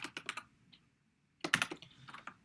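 Quick bursts of computer keyboard typing, close and crisp, with a short pause before another flurry of keystrokes as code is entered.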